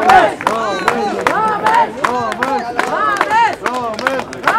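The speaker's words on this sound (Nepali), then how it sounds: "पवन गुरुङ वहाँको लागि जोरदार ताली" Applause from a crowd greeting the winner of a wheelchair marathon in Kathmandu, with steady rhythmic clapping mixed with loud, wavering cheers and shouts that run throughout the whole stretch.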